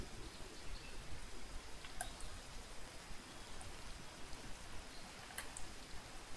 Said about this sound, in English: Oh, and it's raining now.